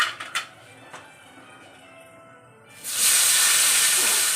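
A few clinks of pan and utensils come first. Then potatoes drop into hot oil tempered with five-spice, and a sudden loud, steady hiss of sizzling fills the rest, with no talk.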